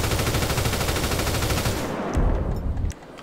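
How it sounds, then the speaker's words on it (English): A modded Assault Rifle MK2 in GTA 5 fires a loud, rapid sustained burst of automatic gunfire that cuts off abruptly, with a brief tail of fading echo afterward. "Assault rifle MK2"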